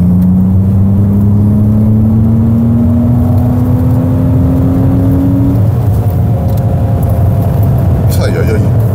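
A BMW Z3 Coupé with a 2.8-litre naturally aspirated six-cylinder engine accelerates, its steady rising drone and hum carrying through the cabin for several seconds before easing off, with faint sounds near the end.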